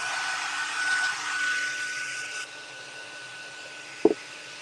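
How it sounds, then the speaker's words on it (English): A hair dryer blows steadily on a handmade Christmas decoration, a loud broad whooshing rush that cuts off partway through and leaves a quieter hiss, followed by one short knock near the end. "I'm going to have to hit it again with the dryer"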